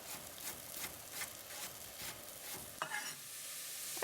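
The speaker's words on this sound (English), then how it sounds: "once the potatoes and onions are cooking in the butter, turn down the heat to low" Potatoes and onions cook in butter in a pan, giving a quiet, soft sizzle with repeated stirring and scraping strokes and a brief clatter near the end.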